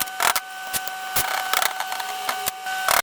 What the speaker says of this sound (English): I have to take these alignment dowels out.